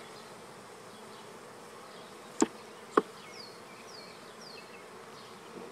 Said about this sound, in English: I can see that the bees are coming in and out of the queen's cage